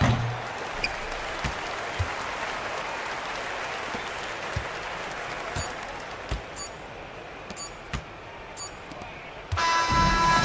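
A home crowd applauds steadily at a Euroleague basketball video game after a victory, a dense continuous wash of clapping with occasional ball bounces and sharp pings over it.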